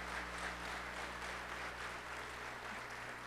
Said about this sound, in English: Would you please join me in giving Joe Driscoll a round of applause for the great job he just did